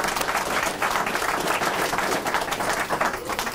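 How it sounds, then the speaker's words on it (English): Applause from a Lions Clubs dedication ceremony audience, loud sustained clapping from a large group that stays steady throughout. "Give yourselves a round of applause."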